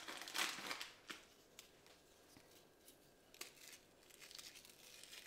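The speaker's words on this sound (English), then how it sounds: "And then just crumple some over the top." Biscoff biscuits being crumbled by hand over a dessert, giving dry crinkly crackling bursts that are loudest at the start and then come in sporadic softer crunches, close up with no talking.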